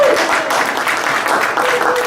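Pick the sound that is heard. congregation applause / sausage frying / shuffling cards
congregation applause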